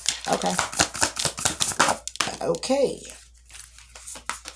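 Rapid papery riffling bursts, a deck of cards being shuffled up close in repeated quick runs, with a few brief pauses between.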